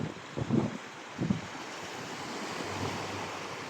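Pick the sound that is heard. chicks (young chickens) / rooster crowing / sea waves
sea waves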